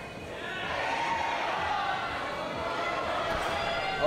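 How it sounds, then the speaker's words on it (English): Crowd of spectators cheering on a climber at a youth lead climbing championship, a steady broad roar of voices and cheers sustained throughout at moderate distance. "that's the US crowd you can probably hear in the background cheering on for Dominic Labarge"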